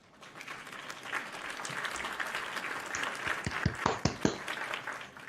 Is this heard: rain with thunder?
no